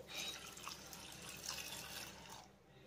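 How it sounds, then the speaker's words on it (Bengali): Water runs in a steady stream into a pot of lentils for boiling, a soft continuous splashing pour that stops near the end, quiet and close with no talking. "আর ডালটাকে সেদ্ধ করার জন্য আমি এর ভিতরে দিয়ে দিচ্ছি জল।"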